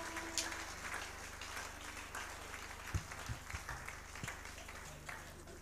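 Indoor church congregation applauding at an anniversary celebration, a faint, continuous wash of many hands clapping with a low hum underneath and a few scattered louder knocks.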